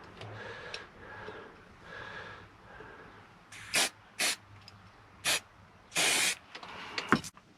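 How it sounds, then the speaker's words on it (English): Short bursts of spray paint coat an airsoft suppressor, about five close hissing blasts of varying length with a soft clicking and quiet rustling between them. "I've just given the suppressor another coating"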